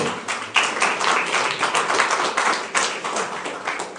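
Steady applause from an audience at a town council meeting, many hands clapping densely and continuously throughout, with no talk over it.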